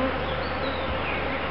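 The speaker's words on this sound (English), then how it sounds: "lots and lots of bees coming back loaded with pollen and basically looking for a way to get in" Dense, frantic buzzing of many honeybees crowding around a hive entrance as they return loaded with pollen. The hum is steady and close throughout, with no voices.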